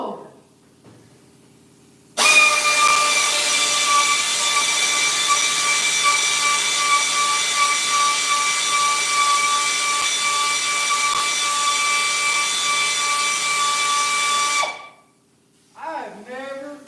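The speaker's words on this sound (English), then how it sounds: "so difficult to drill through 16-gauge sheet metal with a daggone sheet screw" A sheet metal screw is driven into 16-gauge sheet metal, a loud, steady high-pitched grinding whine lasting about twelve seconds that then stops abruptly, followed by a short voice.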